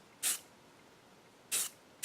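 Short hissing bursts of spray paint from an aerosol can, laying a light tack coat on turn signals held at a distance: three separate sprays, each about a quarter second long with a pause between them, fairly close and otherwise quiet.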